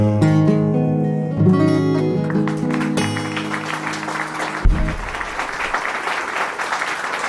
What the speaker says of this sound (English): Thanks for clapping for that one